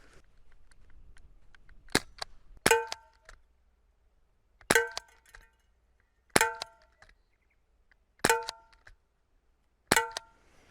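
A KWC M-11 airsoft gun with its stock extended fires six sharp, metallic single shots at irregular intervals, spaced about a second or two apart, each a crisp clack with a brief ringing tail against near silence.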